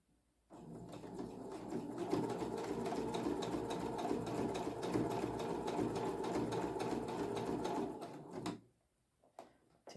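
A sewing machine stitches a patchwork coaster in one steady, close run of rapid needle chatter lasting several seconds, then stops abruptly, leaving near silence.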